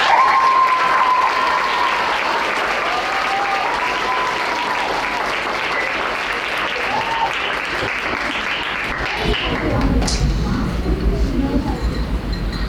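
Sustained audience applause at a 2nd grade school class program, loud and dense crowd clapping filling the whole stretch, with a few voices and cheers mixed in near the end.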